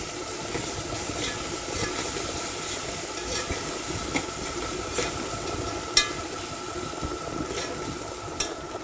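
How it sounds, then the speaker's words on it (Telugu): Ginger garlic paste and turmeric are stirred into chicken curry in a pan, with a soft continuous sizzle and hiss under light, steady stirring and scraping, close and fairly quiet. "అల్లం వెల్లుల్లి పేస్ట్ ఉంటుంది కదా, అది కొంచెం పసుపు, వేసుకొని కలుపుకోవాలండి బాగా."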